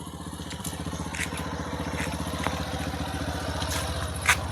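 A small Honda Activa scooter engine putters steadily at close range with an even, rapid low chug and a few faint clicks and clatters, no voices heard.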